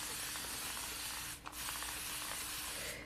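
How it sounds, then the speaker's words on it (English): A spray bottle mists water into natural hair in a steady, close hiss, broken by one short pause before the spraying resumes. "I will just spray some water in the hair."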